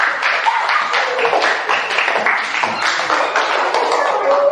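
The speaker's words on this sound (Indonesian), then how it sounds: "Tepuk tangan untuk kelompok biotik." A class of students claps for a group after a lesson on animal types, a few seconds of fast, uneven hand claps in a room, fairly close and steady.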